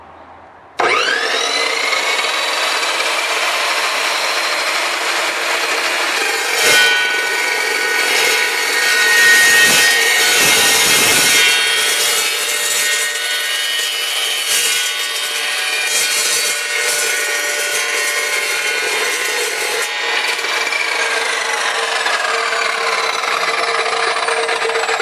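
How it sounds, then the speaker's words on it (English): Evolution RAGE2 chop saw cutting through a metal pipe: a loud, bright, continuous grinding whine that starts abruptly and holds steady for over twenty seconds, with slight changes in pitch as the blade bites. "So now Simon's going to be cutting through this piece of metal pipe."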